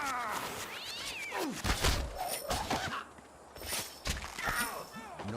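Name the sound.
cat meowing in Puss in Boots video game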